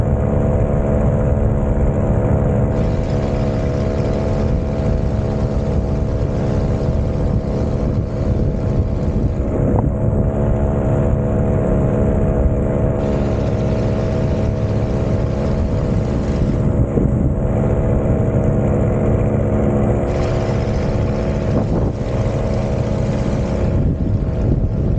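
A motorboat engine idles in a very shallow lagoon, a loud continuous low rumble with steady droning tones and wind buffeting throughout, no voices over it.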